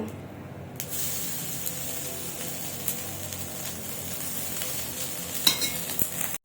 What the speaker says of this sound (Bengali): খুন্তিটাকে নাড়িয়ে এবার এক এক করে একটু একটু করে ভাত দেব।